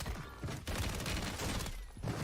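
Rapid gunfire from a Warzone 3 match, a dense, continuous burst of shots and booms that runs loud through nearly the whole stretch, with only a brief dip partway.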